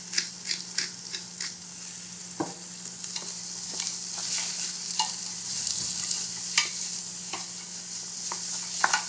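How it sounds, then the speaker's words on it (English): Onions and garlic sweating in a pan give a soft, continuous close sizzle, with scattered spatula taps and scrapes and no talking. "So onions and garlic are sweated off"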